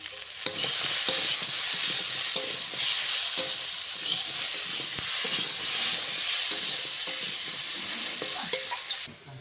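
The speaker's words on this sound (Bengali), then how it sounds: "এখন নুন আর হলুদ দিয়ে ভালো করে ভেজে নেব" Pieces of fish and potato frying with salt and turmeric, a constant loud sizzle and hiss broken by frequent scraping stirs of a spoon in the pan, close up with no speech.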